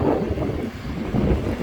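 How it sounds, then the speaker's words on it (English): Gusty wind buffets the microphone with a low, rumbling roar that surges and eases, in Nashville. "It's pretty windy today."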